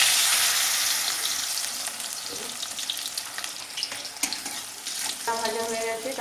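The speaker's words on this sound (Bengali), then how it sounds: "তেল গরম হয়ে গেছে, এবার আমি সবজিগুলো একে একে ভেজে নেব।" Raw green banana slices, rubbed with salt and turmeric, fry in hot oil for Bengali shukto, giving a steady, loud, hissing sizzle throughout with a few light clinks near the end.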